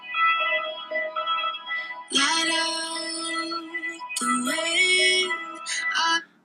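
A song intro of electronic tones steps through a simple melody, with small beeps ticking along steadily beneath it; no voices.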